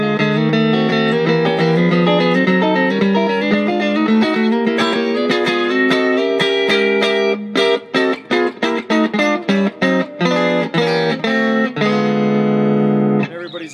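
Distorted guitar plays a hectic diminished chord passage, first sustained ringing chords, then rapid choppy staccato stabs in a tense, chase-like rhythm, ending on a held chord.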